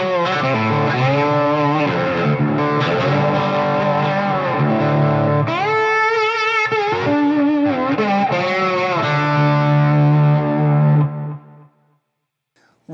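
Electric slide guitar through an Xotic Effects Soul Driven overdrive pedal with controls at noon, playing compressed, sustained gliding notes for about eleven seconds before ringing out, loud and alone.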